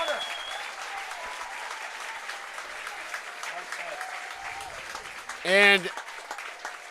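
Stadium crowd at a Toronto Maple Leafs versus Guelph Royals baseball game applauding a sliding catch, steady distant clapping and cheering under a commentator's voice, with a brief loud tone near the end.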